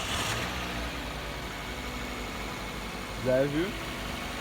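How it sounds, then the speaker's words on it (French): A Mazda 2 engine idles steadily after a timing belt replacement, a low even hum close by, with someone speaking briefly over it. "pour savoir qu'elle est bel et bien mise, on doit lancer le moteur"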